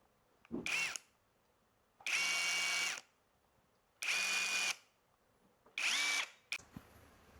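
An Ingco power drill runs in reverse in four short bursts, each a second or less, with a high whine and quiet gaps between them.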